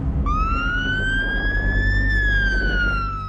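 An emergency vehicle siren wails loud and close in a single long rising-then-falling sweep over low traffic rumble, with no talk.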